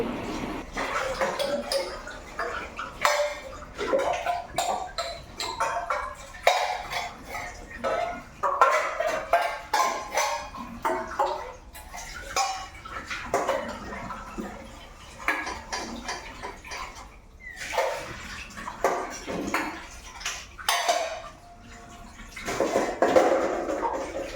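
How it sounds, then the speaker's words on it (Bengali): Dishes are washed by hand in a home kitchen in the morning: running water, clinking plates and rattling utensils in a busy, uneven stream close by. "তো তার জন্য এখন বাসন ধুতে শুরু করে দিয়েছি"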